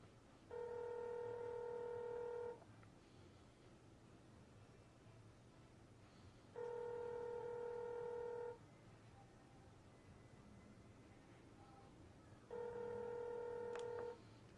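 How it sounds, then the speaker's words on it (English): Ringback tone of an outgoing phone call placed through a laptop accessory: three steady, harmonic-rich tone bursts of about two seconds each, repeating every six seconds over a constant soft hiss, with no voices. "You can hear it ringing."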